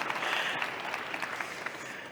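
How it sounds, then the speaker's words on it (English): Audience applause at a live on-stage conversation event, a steady wash of many hands clapping at moderate distance, sustained evenly for the whole stretch without voices. "please give her a round of applause"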